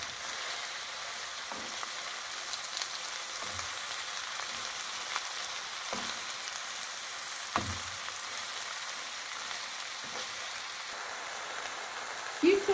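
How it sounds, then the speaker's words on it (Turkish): Onions sautéing in a pan before spinach goes in, a continuous fine sizzle and crackle like light rain. Occasional utensil taps and scrapes come through close by. "Evet, iyice kavrulduğuna kanaat edince ıspanakları dahil ediyoruz"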